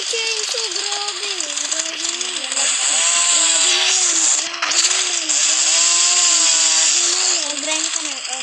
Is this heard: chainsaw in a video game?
yes